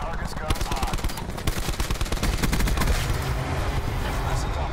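Machine gun fire in a Call of Duty game rattles in loud, rapid automatic bursts that run nearly continuously, with voices talking alongside the shooting.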